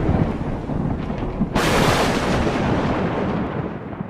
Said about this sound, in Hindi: उसी रात बहुत तेज बारिश होती है